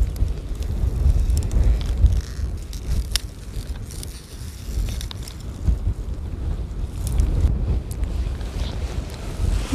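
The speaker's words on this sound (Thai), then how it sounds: "วันนี้มีลมนะคะลมแรงมากค่ะ" Strong wind gusts buffet the microphone outdoors, producing a continuous rumbling roar that rises and falls in waves, with no talking.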